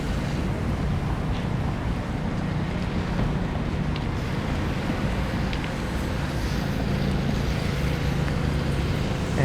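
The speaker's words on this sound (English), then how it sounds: "Now that wind has picked up again." Strong wind roars steadily into the microphone on Wellington Street in Toronto's CityPlace area on a cold April day, a loud, constant rushing buffet that masks almost everything else, with no talking.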